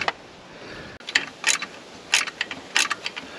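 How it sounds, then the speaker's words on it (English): Ratcheting spanners click close up during alternator work on an 80 Series Landcruiser, sounding in short bursts of sharp, rapid ratchet clicks with small pauses between them. "Ratcheting spanners."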